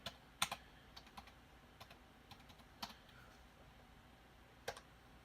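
Keys clicking on a computer keyboard while a command is entered to set up a Raspberry Pi, with a few sharper isolated keystrokes spread out over quiet background, close and fairly faint.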